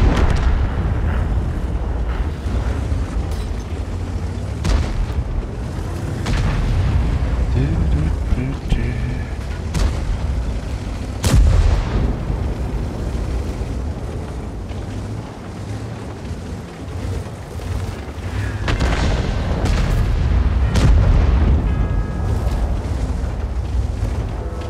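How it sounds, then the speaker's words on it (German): Heavy tank cannon shots from a Polish 60TP in a tank video game, several deep booming blasts at irregular intervals over a rumbling engine drone. "Schieß jetzt, gib deinen letzten Schuss ab."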